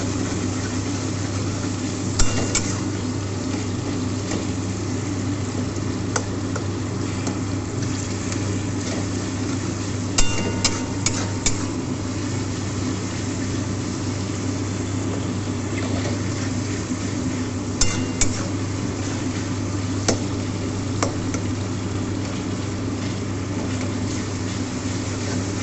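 Loitta (Bombay duck) fish jhuri being stir-fried and cooked down in oil in a pan, a steady continuous sizzle with a low hum running throughout and occasional scraping clicks from stirring, no talking.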